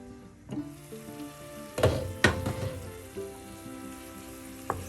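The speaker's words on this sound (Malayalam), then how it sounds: "ഇഞ്ചി വെളുത്തുള്ളി ഉള്ളിയെല്ലാം നല്ലതുപോലെ വഴന്നിട്ടുണ്ട്" Ginger, garlic and onion sauté over low heat in a covered pan for a king fish curry. A soft, steady sizzle runs throughout, broken by a couple of sharp metallic clinks near the middle, and no one speaks.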